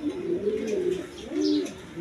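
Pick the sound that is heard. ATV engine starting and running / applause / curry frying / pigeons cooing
pigeons cooing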